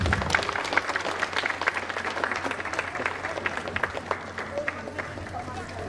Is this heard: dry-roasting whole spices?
no